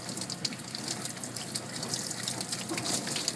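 Water runs from a tap while a kitten is bathed, a steady, fairly faint splashing gush that keeps an even level throughout with no one talking.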